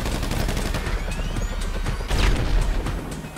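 Rapid gunfire bursts and crashing impacts from a shootout with a helicopter in Grand Theft Auto V, dense and continuous, with a louder, heavier stretch partway through.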